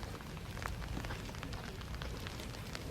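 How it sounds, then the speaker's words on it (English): Steady rain falls outdoors near a Danish castle and bay, a dense even patter of drops on surfaces that holds constant with no talking. "it did start to rain."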